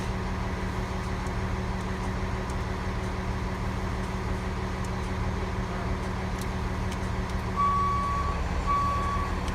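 A Rosenbauer tanker pumper fire truck in reverse gives a steady, evenly spaced electronic beep over a constant low engine idle rumble. The beeping comes in clearly near the end, with no voices.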